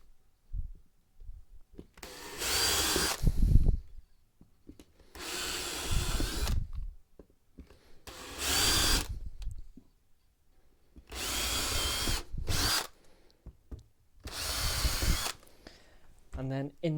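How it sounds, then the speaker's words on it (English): A power drill boring screw holes into a wooden board for an N gauge model railway, sounding in five separate whirring bursts of a few seconds each, with pauses between them. "I'm going to take my drill and just drill some holes"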